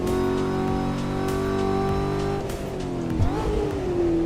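Racing car in the Assetto Corsa driving game, its engine droning loudly and steadily in a rising, revving tone, then dipping and climbing again through a gear change near the end, with no voices.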